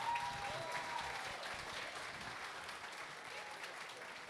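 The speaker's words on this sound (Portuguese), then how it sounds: "Uma salva de palmas para os nossos astros." Audience applause at a comedy hypnosis show in a bar, a dense steady round of clapping from a crowd that holds strong throughout, with faint voices mixed in.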